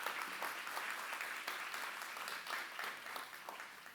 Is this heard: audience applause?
yes